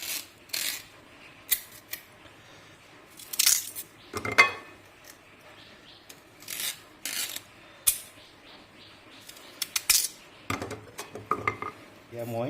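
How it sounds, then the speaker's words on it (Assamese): A datha plant stalk being cut for a curry with mutton fat, giving scattered crisp snips and scraping knocks against a pan, irregular and close, with quiet pauses between the cuts. "ডাঠাটো মই কাটিবলৈ আৰম্ভ কৰিছো"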